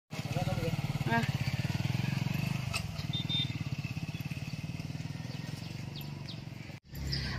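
A motorbike rides along with a steady, rapid engine putter that stays loud and close for about seven seconds, briefly cutting out near the end before picking up again.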